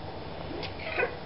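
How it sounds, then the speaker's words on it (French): A cat indoors in an apartment gives a short, faint meow near the end of a brief stretch of low background noise. "On a un chat à l'appartement"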